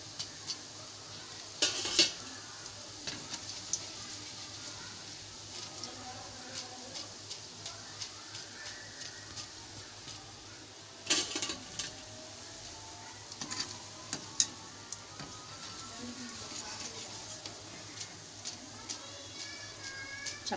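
Cabbage manchurian balls frying in oil, a soft steady sizzle close by, broken by occasional clinks and scrapes of a spoon against the pan and a few louder clattering moments.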